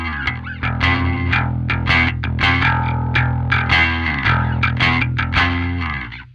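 A bass guitar through the Parallax X distortion plugin on its default preset, playing a rhythmic riff of gritty, aggressive distorted notes at steady volume that fades at the end.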